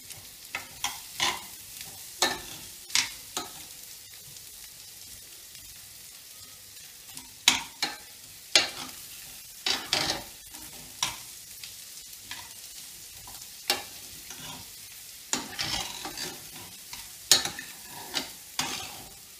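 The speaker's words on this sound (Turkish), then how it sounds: "Ve şimdi iyice karıştırıyoruz. Tereyağımızı iyice eritmek lazım." A spoon stirs rice through melted butter in a pan, giving a low sizzle broken by sharp, irregular scraping strokes, close and clear with no talk.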